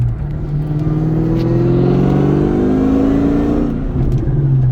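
A 2003 Cobra car engine roars loudly and steadily, the pitch rising and falling as it revs, heard up close with no talking.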